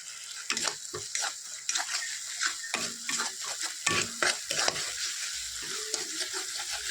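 Yogurt hits hot oil and fried spices in a pan while cooking doi katla, a yogurt-based catla fish curry: a steady close sizzle broken by clinks and scrapes of a spoon stirring against the pan, with no voices.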